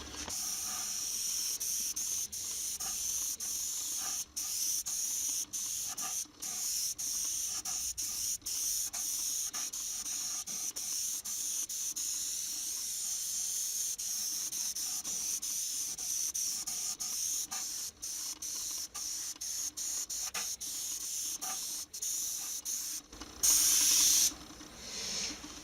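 An aerosol spray can hisses steadily while painting stylized flames, a long continuous airy spray broken by brief pauses and short stops, close and fairly quiet, with no voices.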